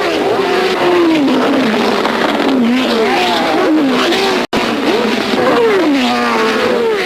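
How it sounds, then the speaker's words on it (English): Racing cars in a motor race, including a Matra Ford, produce loud, continuous engine roar with rising and falling pitch as the cars pass and rev, close and dense throughout. "One by one, the other great names come up to challenge Jackie's Matra Ford"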